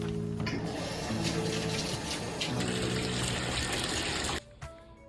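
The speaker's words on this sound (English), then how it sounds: "we're also gonna wash my mouse pad real quick" Tap water runs steadily over a mouse pad being washed in a sink, a close, continuous gushing splash that cuts off abruptly near the end, leaving faint drips and handling sounds.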